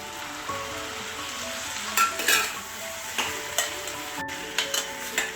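Boiled onion and tomato for a thokku sauté in a pan with a steady frying sizzle, punctuated by occasional scraping stirs and light spatula taps, up close with no speech.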